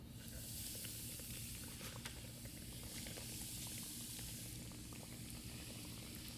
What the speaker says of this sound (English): I'm going to be turn on the oil for 350 and fry the pork chop for 2 minutes